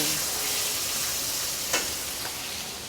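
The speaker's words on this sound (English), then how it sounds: "we're just gonna sear this meat" Beef carne asada searing in a hot pan, a loud continuous sizzle filling the whole stretch, with a couple of faint taps from a utensil.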